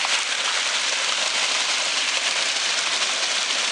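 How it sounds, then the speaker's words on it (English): Heavy rain pours steadily during a thunderstorm amid flash flooding in the San Bernardino Mountains, a dense, even roar of water with no thunder cracks or voices, close and loud throughout. "Just wanted to do a video on the pouring rain out here. The thunderstorm that's coming by."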